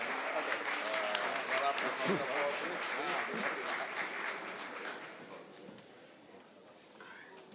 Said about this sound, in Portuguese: Palmas para mim também, né?